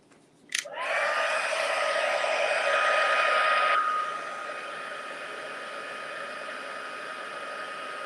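Heat tool blowing to heat-set embossing powder for card making, a loud steady whooshing airflow with a faint whine that starts abruptly after a click, runs about three seconds, then drops to a softer continuous hum.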